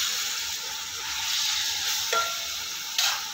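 Minced keema sizzles and fries in a pan with lightly browned onions, a steady close hiss broken by a couple of sharp clinks of a spoon against the pan.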